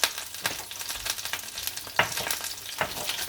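Garlic sizzles in a hot frying pan with butter, a bright crackling hiss broken by sharper spits and stirring scrapes, close and fairly loud with no one talking.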